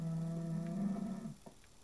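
A cow moos once in a farming survival video game, a single drawn-out, low bellowing call that trails off, heard on its own.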